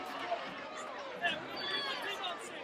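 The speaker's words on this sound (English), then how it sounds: "So the crowd's really enjoying tonight." A football stadium crowd keeps up a faint, distant chatter, a soft steady murmur with a few small swells and no single voice standing out.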